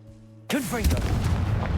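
Casting the Confringo fire-blast spell in Hogwarts Legacy: after a quiet lead-in, a sudden loud booming burst erupts with swooping tonal whooshes, then a sustained rumbling roar carries on to the end.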